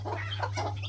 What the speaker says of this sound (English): You ever hear a chicken growl?